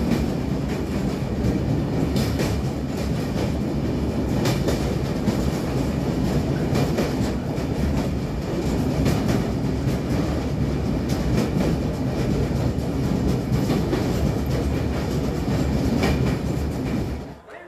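Duronto Express train crossing Bally Bridge over the Ganges, heard from on board: a steady, loud rumble of wheels on track with rhythmic clatter and metallic rattling that holds throughout, then cuts off at the very end.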